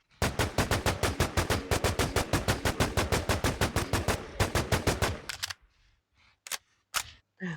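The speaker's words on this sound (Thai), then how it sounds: "M4 เซมิของเราจะใช้ยิงบอส กี่นัดนะครับท่านผู้ชม" Rapid semi-automatic M4 rifle fire in the video game Infestation, a loud, dense run of evenly spaced shots for about five seconds, then a pause and a few scattered single shots.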